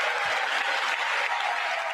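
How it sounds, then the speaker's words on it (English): A standing audience claps together in dense, even applause, sustained and fairly distant, with no voices rising above it. "Everybody stood up and started clapping."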